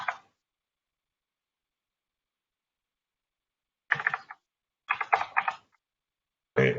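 Short bursts of computer keyboard typing come close and fairly loud, separated by long silent gaps: one brief burst at the start, then several clustered rapid runs of keystrokes near the end.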